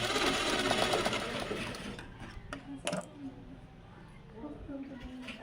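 A sewing machine runs briefly at close range as it stitches a tuck into fabric, its rapid whir fading within a couple of seconds into quieter clicks and handling sounds.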